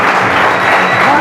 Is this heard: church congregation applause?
yes